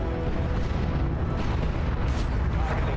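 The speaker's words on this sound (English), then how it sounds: "Imperial Guard artillery is very powerful, but it's also very inaccurate" Imperial Guard artillery pounds the battlefield in Dawn of War 2, booming shell impacts and blasts rolling together into a heavy, continuous rumble with sharper bursts mixed in, all without speech.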